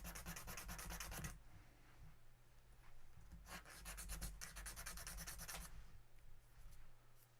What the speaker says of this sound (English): So I'm just taking a razor blade and kind of scraping the sides.